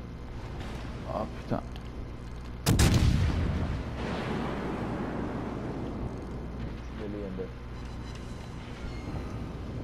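A cruiser's naval artillery fires in a warship video game: one loud, sudden blast that booms and slowly rolls away over a steady engine-like rumble, with a man exclaiming briefly just before.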